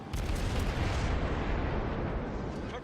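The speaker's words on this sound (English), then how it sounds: "my anti-aircraft guns are focusing on them" Anti-aircraft guns on the light cruiser Kuma fire during a naval battle against attacking bombers and fighters, a dense continuous barrage of booming bursts that keeps up loud and rumbling throughout.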